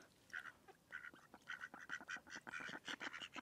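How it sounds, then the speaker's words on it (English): Several ducks near the water give rapid, overlapping quacks in a busy, continuous chatter, fairly quiet and close, with no talking. "I got a duck to take it from me"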